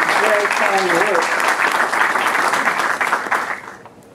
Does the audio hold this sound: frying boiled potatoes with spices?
no